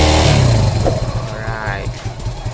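A motorcycle engine fitted with a DIY oil cooler inside the airbox revs loudly and close up, a deep throbbing roar that pulses and gradually eases off over a couple of seconds.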